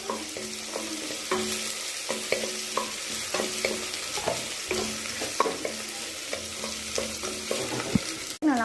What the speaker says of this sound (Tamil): வெங்காயத்தை ரொம்ப கருக்க விட்டுறாதீங்க.